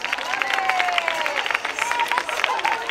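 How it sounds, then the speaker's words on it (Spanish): A crowd at the Fuente Nueva street festival verbena applauds the neighbours, a dense continuous clapping with some cheering and babble, while a voice keeps talking over it. "un aplauso para todos los vecinos de Fuente Nueva"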